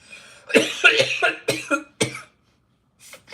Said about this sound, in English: I'm so dying from the cough.